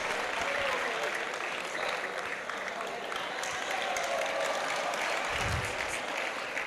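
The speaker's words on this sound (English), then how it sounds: "Please let's give him a round of applause." Audience applause at a World Environment Day event in 2026, a steady, moderately loud wash of clapping from a crowd that continues without break and without voices on top.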